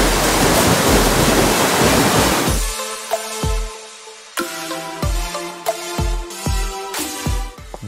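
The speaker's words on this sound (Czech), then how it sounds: "ale my tady v Hřensku máme vodopád" A waterfall in Hřensko roars as a loud, dense rush of water for the first few seconds, then gives way to quieter, sparser ringing tones and soft knocks.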